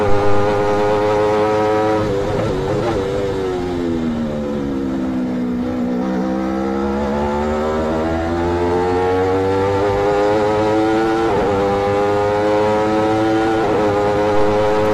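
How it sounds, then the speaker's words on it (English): G1 race cars powered by 200-plus horsepower Aprilia RSV4 motorcycle engines race at Cremona Circuit, screaming loudly as their pitch dips and climbs again through the corners and gear changes, with no talk. "all grip G1 race cars each have an RSV4 Aprilia motorcycle engine with 200 plus horsepower"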